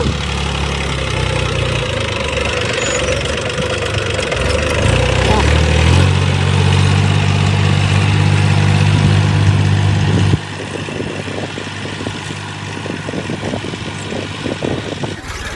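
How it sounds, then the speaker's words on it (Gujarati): A tractor engine idles and rumbles steadily throughout, with a deeper, louder low drone in the middle before easing back; voices are faintly audible underneath. "ટ્રેક્ટર"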